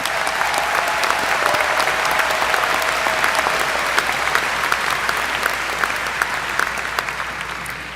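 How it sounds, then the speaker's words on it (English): Graduation audience applauding the senior class at a high school commencement ceremony, a sustained, dense wash of many hands clapping at steady loudness throughout, with no voices standing out. "Join me in giving the senior class a round of applause for their academic achievements and commitments."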